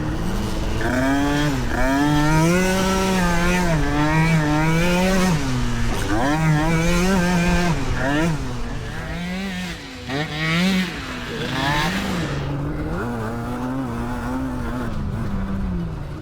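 A legendary Banshee quad bike races hard, its engine revving up and down in continuous wavering sweeps, loud and close throughout with no break.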